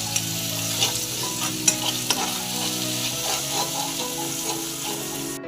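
Ginger, garlic, green chili and cumin paste sautéing in a pan for a raw papaya vegetable dish, with a steady close sizzle, scraping stir strokes and occasional clinks of the utensil against the pan.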